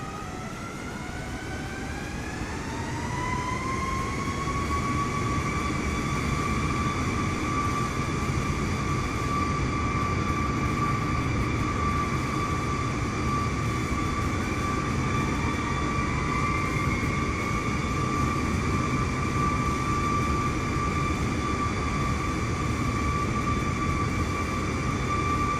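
Airliner jet engines, an Embraer E195 in a flight simulator game, spool up with a steady rising whine that climbs in pitch and then holds as a loud, continuous roar.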